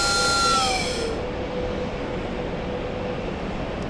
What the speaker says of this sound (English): It's the plane that sounds like a train.